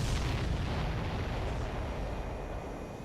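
Ships blowing up in Ace Combat 7 give a dense, roaring wash of explosion rumble that stays loud throughout, then slowly fades, with no voices.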